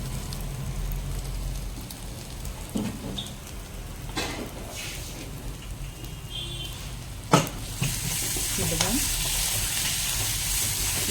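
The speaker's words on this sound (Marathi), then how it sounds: "ही बराच वेळ आपल्याला मंदा आचेवर ठेवून शिजवून घ्यायची आहे" Thick spicy paste for a spicy vada dish cooks in a pan over low heat, giving a steady soft sizzle and bubbling throughout with a few brief clicks and stirring scrapes.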